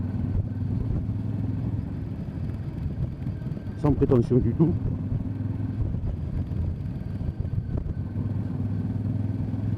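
A motorcycle engine drones steadily on a Christmas ride, with a brief clattering burst partway through, while someone speaks over the engine noise.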